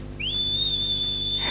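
A person whistles to imitate a canary's song, producing one long, steady, high whistle that rises briefly at the start and then holds an even pitch, loud and close, with no talking.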